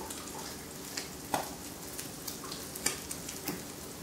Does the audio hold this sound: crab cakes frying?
yes